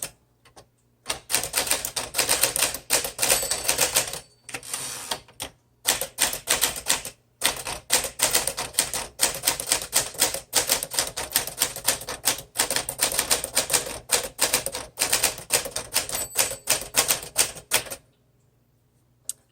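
A Smith Corona Sterling typewriter with thick plastic keys types in rapid bursts of crisp keystrikes and clacks, close and loud, with brief pauses between runs for most of the clip.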